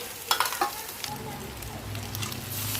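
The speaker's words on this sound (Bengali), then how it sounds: "কুচে রাখা পেঁয়াজ দিচ্ছি, ভালো করে ভেজে নেব।" Chopped onions fry in a pan with a low, steady sizzle, marked by a few sharp stirring scrapes early on, then a soft continuous crackle.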